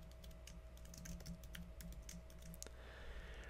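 Quick, light key clicks on a computer keyboard as a password is entered, an irregular patter of soft taps that pauses briefly near the end, faint and close.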